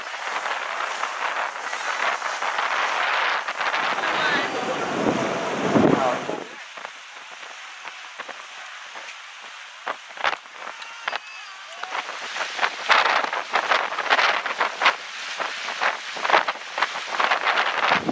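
Strong wind gusts roar across the microphone in open country during a trans-Labrador trip, a loud rushing burst that dies away into quieter buffeting and rustling, with a voice talking at times.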